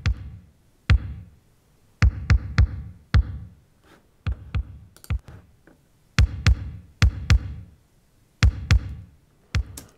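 Punchy Roland TR-707 drum machine hits, run through a vintage Roland effects unit, play in a syncopated pattern, each kick and snare ringing out with a short effected tail, no voices.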